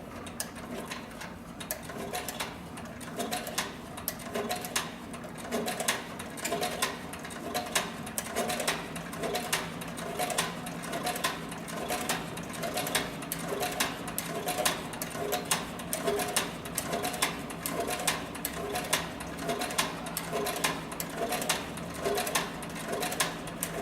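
A Cowboy CB4500 extra-heavy-duty sewing machine stitches through layers of thick saddle skirting leather, its needle hammering in a steady, rapid rhythm that runs close and continuous throughout.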